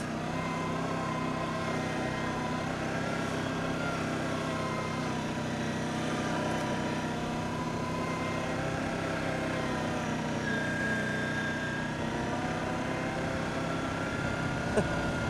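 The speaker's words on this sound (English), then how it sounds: "This thing doesn't rev at all. Governed very low." An Arctic Cat Diesel 700 snow machine engine held to low, governed revs drones steadily and fairly loud throughout, with a constant even hum and no rise in pitch.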